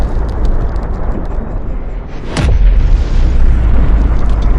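An RPG round detonates against a wall: a single sharp, loud blast lands mid-clip over a constant heavy rumble of background noise.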